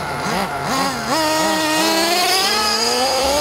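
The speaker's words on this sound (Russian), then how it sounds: "Рев двигателей внутреннего сгорания сменяется жужжанием электромоторов" Combustion engines of RC model cars roar and whine close by, pitch rising and falling with quick revs before settling into a sustained high buzz at a racing track.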